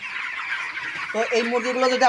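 Broiler chickens cluck and squawk in a busy flock while drinking water, with a louder drawn-out call near the end, close by and continuous.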